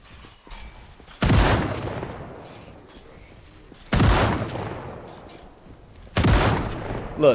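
Gunshots ring out in Project Zomboid as zombies are shot through a high fence, three loud separate blasts spaced a few seconds apart, each fading into a reverberant tail.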